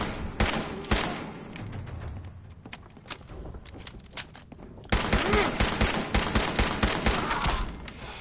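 Rapid bursts of automatic gunfire ring out in the video game Fallout, dense volleys of loud shots repeating in clusters, pausing briefly and then resuming hard.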